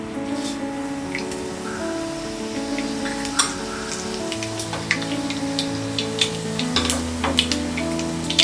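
Mustard seeds and cumin spluttering in hot oil in a pan, a steady crackling sizzle scattered with sharp, irregular pops that grow more frequent toward the end, with a faint background hum underneath.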